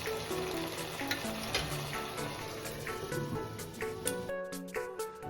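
Small fish chachchari fries in oil with a dense, continuous sizzle while a spoon stirs it, giving soft scrapes and taps against the pan, close and steady.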